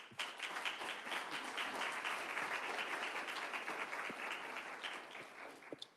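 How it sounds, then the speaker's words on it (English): Steady applause from a crowd at a school district board meeting, sustained and even for several seconds, heard at moderate distance without speech. "So I'd like to give you a round of applause."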